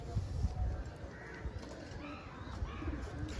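Old Madrasi pigeons in a loft give low, soft cooing under a steady bed of background noise, faint and continuous without clear speech.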